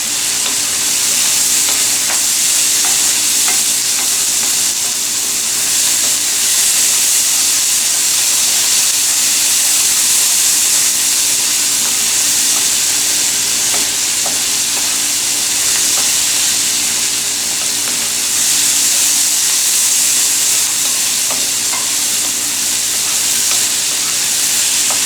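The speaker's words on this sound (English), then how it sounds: "when we add the tofu, we're going to let the tofu brown up a bit" Tofu fries for a vegan stir-fry in a hot pan, a loud continuous sizzle and hiss held steadily up close for the whole stretch, with no voices.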